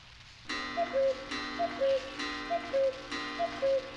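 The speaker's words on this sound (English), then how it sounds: "A pendulum-driven cuckoo clock with the cuckoo oddly absent." Pendulum-driven cuckoo clock in a horror video game, ticking steadily in a close, even two-beat rhythm that repeats alone against a quiet room tone.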